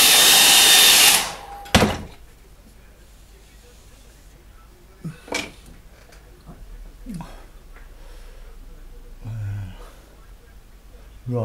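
A hair dryer blows loud and steady on a landscape painting for just over a second, then cuts off. Quiet room noise follows, with a few brief soft sounds and a low voice murmuring.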